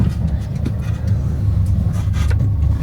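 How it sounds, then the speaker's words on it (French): A car approaching on a street and then turning away, a steady low engine rumble held close throughout with no other sounds over it. "Ah, une voiture qui arrive, mais elle tourne."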